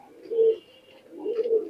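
Pakistani high flyer pigeons coo inside a loft, two soft, close, rounded coos separated by a short pause in otherwise quiet surroundings.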